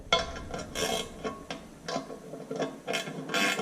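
Bolts being threaded and ratcheted into the front engine cover of an IHC Farmall Super MTA tractor, a close series of irregular metallic clicks and scraping turns in short bursts.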